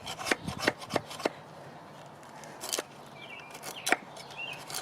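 A good knife slicing dry, brittle fatwood, a handful of sharp scraping and chopping strokes in quick clusters, close by, with quieter rustling between them and faint bird chirps in the background.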